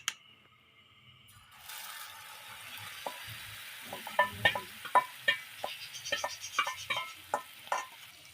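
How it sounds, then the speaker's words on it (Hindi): Beaten egg fries in hot oil for an omelette. After a quiet start it breaks into a sudden steady sizzle, with a run of sharp utensil taps and scrapes stirring the pan close up. "इस पर अब अंडा फ्राई होगा जी"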